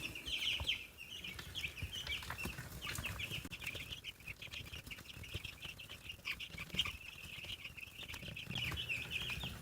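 Young meat and heritage chicks in a brooder cluck and cheep continuously at low volume, with occasional wing flutters and scratching close by.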